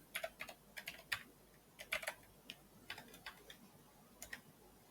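Keys tapped on a computer keyboard as the ipconfig command is entered, quiet clusters of quick clicks with short pauses between bursts.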